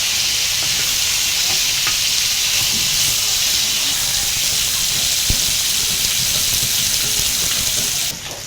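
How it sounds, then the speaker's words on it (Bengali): Fish, washed and rubbed with salt and turmeric, fries lightly in hot oil in a kadai, a loud continuous sizzle with a stray clink, easing off at the very end. "মাছ হালকা করে ভাজে নিচ্ছি"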